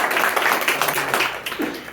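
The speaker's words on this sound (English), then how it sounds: "I'd like to ask you to give a nice round of applause to our police commissioner." A short round of applause for a police commissioner at a Yonkers police community event, steady mid-distance clapping from a small gathered crowd.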